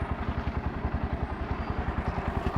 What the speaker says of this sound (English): let's turn on the motorcycle and let's hear how it sounds